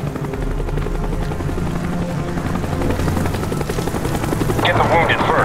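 Helicopters arriving in the video game Call of Duty: Black Ops, a steady loud rotor chop throughout with game voices talking over it and a burst of combat noise near the end.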